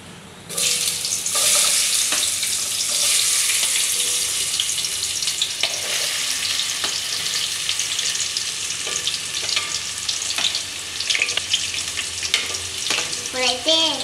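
Onions hit hot oil in a pan with a sudden loud sizzle that settles into steady, close frying, broken by occasional stirring clatter and scrapes.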